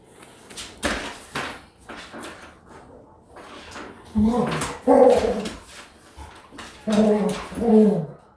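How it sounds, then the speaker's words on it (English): Dogs roughhousing somewhere off to the side of a kitchen where salted caramel macarons are being assembled, with several short barks and whimpering yips coming in bursts, most noticeably toward the end, mixed with the clatter of the counter. "And you can hear the dogs wrestling over there again."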